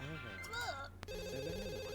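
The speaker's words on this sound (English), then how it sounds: "Oh god, the phone's ringing" A telephone rings in the video game The Sims 2, a trilling electronic ring that begins partway through and continues steadily beneath gibberish character voices and background game music.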